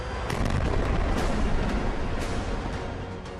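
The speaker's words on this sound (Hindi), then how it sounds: "इन आतंकी इमारतों को बारूद लगाकर धमाके के साथ तबाह कर रही है।" Explosive charges demolishing buildings for the Israeli army: heavy, continuous rumbling blasts with sharp cracks breaking through, a loud explosive roar that stays dense from start to finish.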